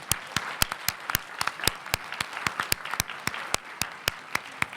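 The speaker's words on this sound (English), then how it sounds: "Let's give them one more round of applause." An audience at a school board meeting applauds students, with sharp, distinct claps in a brisk, uneven rhythm from a modest crowd, close and steady with no talking.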